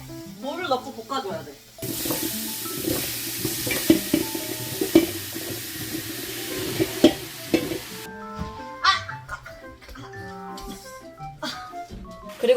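Beef that went in frozen and radish are stir-fried in a pot, a steady sizzle with scraping, clattering stirring from a spatula, close up, while a voice talks over it at times.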